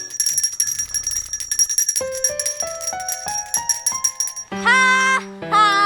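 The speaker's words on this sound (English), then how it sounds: "Maybe if I ring the bell the whole time I'm singing, it'll wake him up." A handbell rings in a children's nursery-rhyme scene, first as quick bright jingles, then alongside a sung melody of stepped tones, with sustained ringing bursts near the end; clear and close.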